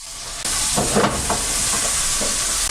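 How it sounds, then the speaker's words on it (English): Onions and turmeric sauté in oil over just-above-medium heat, a close steady sizzle that rises abruptly after a quiet start, with a few soft stirring knocks and no speech. "The onions need to be well sauteed until they reach a beautiful golden color."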